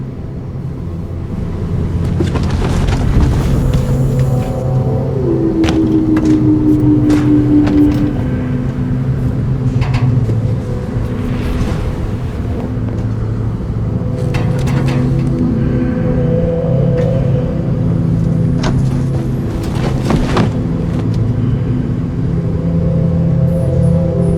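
A car engine in Nobody Wants to Die rumbles steadily and loudly while driving, a low continuous drone with brief mechanical whines and shifts over the whole stretch, no voices.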